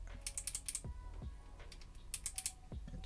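Keys on a mechanical keyboard under construction are tapped in quick clusters of sharp clicks, two bursts with soft thuds between them, close and fairly quiet.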